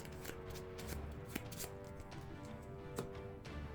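A deck of game cards, including encounter and environment cards for a Marvel Champions Mojo Mania setup, shuffled by hand in a run of soft, close riffling and tapping bursts with no talking.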